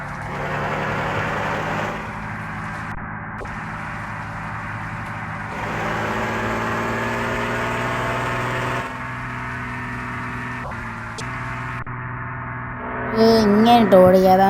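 A bus engine from the game Bus Simulator Indonesia runs as a steady loud drone, its pitch shifting in stages as the bus shifts and speeds up. Short game clicks and tones come near the end.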